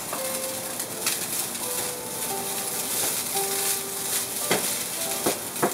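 Thin rice vermicelli noodles stir-frying in a pan, a steady sizzle broken by several sharp scraping and stirring strikes, with faint bird calls in the background.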